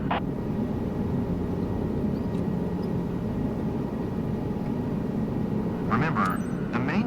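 A helicopter hovers low in the MSFS 2024 simulator, producing a steady droning rotor and engine rumble that stays level throughout, with a few faint clicks near the start and end.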